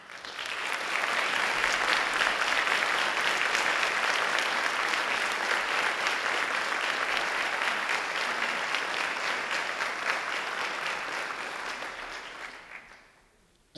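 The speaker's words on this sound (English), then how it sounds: "could the teachers please rise for a round of applause?" Sustained applause from a large crowd for teachers at a high school graduation ceremony, steady and dense for about twelve seconds before tapering off abruptly at the end.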